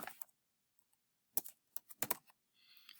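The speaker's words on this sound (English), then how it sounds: "So I'm going to go back in and I'm going to type tungsten." Quiet, close computer keyboard typing: a few isolated key taps followed by a short burst of quick clicks, with near silence between them.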